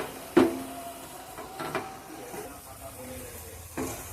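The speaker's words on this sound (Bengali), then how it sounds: "এবার আমি সবকিছু ভালো করে কষে নেব।" Capsicum and carrot being stir-fried in a pan: a few sharp spatula scrapes and knocks spaced seconds apart over a faint, low sizzle.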